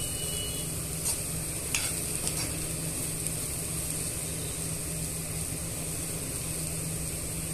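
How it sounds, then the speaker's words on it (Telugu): Dry beans fry in a pan as spices are mixed in, giving a steady broadband sizzle with a few soft scraping stirs near the start, close and even throughout with no talking. "ఇలా అన్నీ కలుపుతూ మిక్స్ చేసుకోవాలి. అన్నీ మసాలాలన్నీ మిక్స్ చేసుకోవాలండి."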